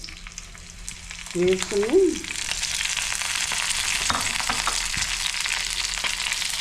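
Dried red chillies frying in oil for a dried prawn chilli powder, a close, steady hiss that swells and continues after a brief spoken word near the start.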